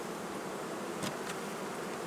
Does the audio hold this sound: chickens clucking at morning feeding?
no